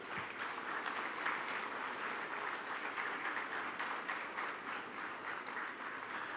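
A steady wash of applause from a large convocation audience, dense and even throughout, heard from a moderate distance with no talking over it.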